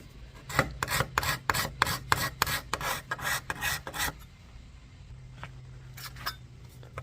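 A hand scraper shapes a traditional leather insert in the face of a pre-1900 wooden golf club. Quick rhythmic rasping strokes, about a dozen in a fast run, then a pause and a few slower scrapes, close and crisp.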